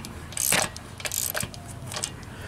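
A wrench and socket tighten a lock nut during a Warn VR8 winch installation on a Jeep Renegade, giving a few short metallic clicks and ratcheting rattles, close and fairly quiet.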